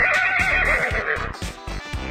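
A zonky, a zebra-donkey hybrid, gives a loud, harsh braying whinny with rapid, rhythmic broken pulses, close and filling the moment alone.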